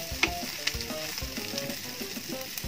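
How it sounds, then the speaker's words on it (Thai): Rice being stir-fried with herb paste in a Teflon pan, a steady close sizzle of frying with scraping and stirring strokes, with no talk. "เอาข้าวใส่นะคะ ผัดให้เข้ากันเลยค่ะ"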